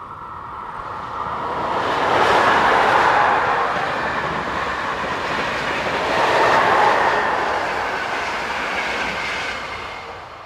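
Two Austrian Class 4020 electric multiple units passing on a line lined with houses and sound barriers, a loud sustained rumble and wheel roar that swells twice as the trains go by, with no voices.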